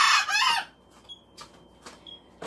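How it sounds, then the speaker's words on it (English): A rooster crows loudly and close at the start, a harsh drawn-out call, then fainter intermittent clucks and small sounds follow over a quiet background. "I know it's really noisy here because I have a rooster that will never be quiet."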